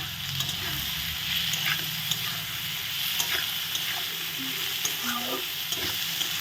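Onions and green chillies fry in a pan for egg ghugni, a constant crackling sizzle punctuated by repeated spatula scrapes and light clinks as they are stirred, without speech.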